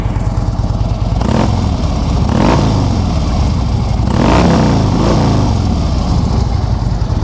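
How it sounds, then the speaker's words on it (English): Harley-Davidson Street Glide FLHX V-twin fitted with Vance & Hines exhaust pipes, idling with a steady low rumble and blipped into several loud revs that rise and fall, recorded up close with no talking. "That nice Vance & Hines sound that you always get from them pipes."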